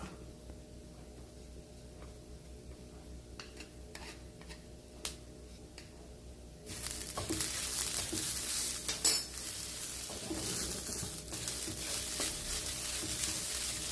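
Grated coconut cooks with ghee in a pan, starting with faint scattered spoon clicks over a quiet background, then a louder steady sizzle and scraping stirs take over partway through, close with no speech.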